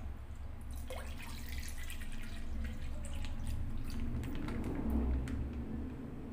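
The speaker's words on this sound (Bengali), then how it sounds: "আমি এবার কড়াইয়ের মধ্যে দুধটা ঢেলে দেব" Packet milk is poured into a heated kadai for mango payesh, giving a soft, continuous trickle and splash with a few drips, close by but quiet, with no talking.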